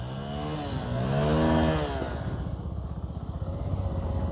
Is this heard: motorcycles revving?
yes